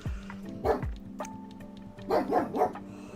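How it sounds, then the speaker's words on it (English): A pet dog indoors gives a few sharp barks and yips, two early ones followed by a quick run of three louder barks, close and clear with faint background sound. "as evidenced by that barking that he's just doing right now"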